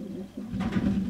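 A half racing pigeon gives a short, low, throaty coo, close and clear, with a soft lead-in murmur before the fuller rolling call.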